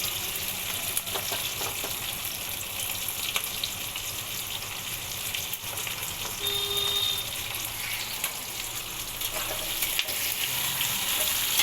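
Soybean chunks with green capsicum and red bell pepper frying over high flame, with a loud continuous sizzle and occasional stirring scrapes throughout.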